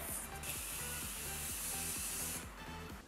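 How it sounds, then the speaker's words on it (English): A makeup setting spray mists onto the lips in one continuous soft hiss lasting about two seconds, over quiet rhythmic background music. "I'm just gonna grab some setting spray and just set my"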